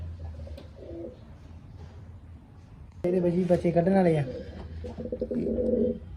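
Pigeons coo repeatedly in a breeding loft where chicks are being raised, the soft throaty calls close by and coming in bursts under someone talking.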